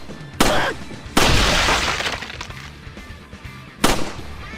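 Gunshots in Resident Evil 4, fired near a cabin: three loud, sharp blasts, spaced apart, each followed by a short decaying tail and scattered crackle in between.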